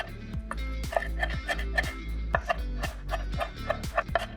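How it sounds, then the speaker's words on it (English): Knife chopping fresh herbs on a board for a herby couscous garnish, a quick, steady run of crisp close taps with a low background hum, no talking. "we're chopping all of our herbs now"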